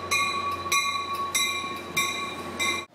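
Steady rumble of a passenger train ride out of San Jose, with a sustained tonal hum and repeated rhythmic clacks every half second or so, heard from inside the car with no talking.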